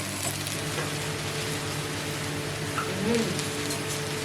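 Vendakkai (okra) stir-frying in a pan: a steady, even sizzle with faint crackle continues throughout, close and moderately loud, with no talking.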